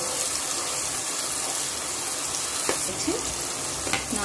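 Four chopped onions sautéing in oil in a pan for egg curry, producing a dense, loud, steady hiss and sizzle, with a brief word spoken over it.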